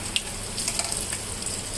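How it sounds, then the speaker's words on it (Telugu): Hot oil in a pan sizzling as asafoetida is added for tempering, a soft steady fizz with a few brief crackles, fairly faint, no talk. "ఇప్పుడు తాలింపు వేసుకుందాం."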